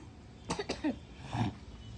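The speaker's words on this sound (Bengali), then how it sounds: "কাশছো যে, মুখে হাত দিয়ে কাশবে" A person gives two quick, sharp coughs close to the microphone, followed by a muffled throaty sound against a quiet background hum.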